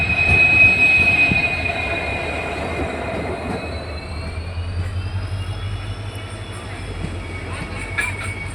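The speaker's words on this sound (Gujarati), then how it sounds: "જો ટ્રેન આવી છે રહ્યો" A train rolls in with a long metallic wheel squeal and low rumble, drawn-out screeching pitch shifting as it slows, with faint voices in the background.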